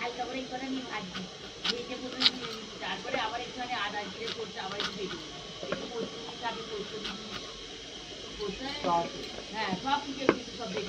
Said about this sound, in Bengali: দেখতে পাচ্ছেন এইরকম বড় বড় করে কেটে নিচ্ছি